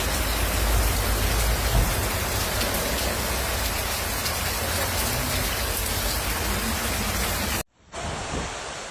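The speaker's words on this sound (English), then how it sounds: "Heavy rain in a short period of time caused flash floods." Steady, dense downpour of heavy storm rain in Dalmatia, Croatia, drumming on surfaces, loud and continuous, with a brief cut near the end before the roar resumes.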